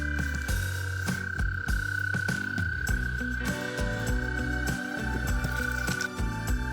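A dense chorus of frogs croaking continuously at a backyard pond, many overlapping calls of different pitches, with a steady high trill running through the background.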